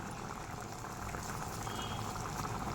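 Egg pepper gravy simmering down in a pan, giving a steady, dense bubbling and popping that stays close and even throughout without a break.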